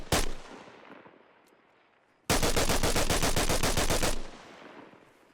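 FN SCAR rifle firing in Arma Reforger: a single loud shot with a decaying echo, then a sustained burst of rapid automatic fire lasting about two seconds that fades into a reverberant tail.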